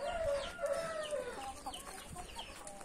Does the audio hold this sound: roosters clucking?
yes